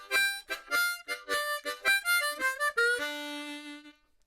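Blues harmonica plays a full riff line in a rhythmic box pattern, with short choppy chords and notes that end on a long sustained held note fading out, the instrument heard alone.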